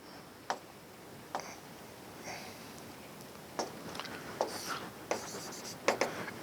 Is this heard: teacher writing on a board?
yes